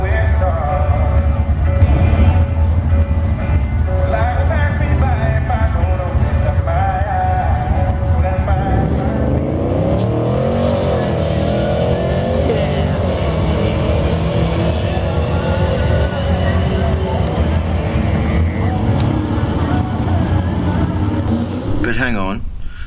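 A Holden VF Series 2 SS on a drag racing run gives a loud, continuous engine roar with a rising pitch sweep partway through as it accelerates, heavy low rumble dominating the whole stretch.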